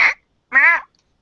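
A person imitates a crow with two short, nasal, raspy caws at close range. A brief clipped call comes first, then a longer drawn-out one, with no other sound.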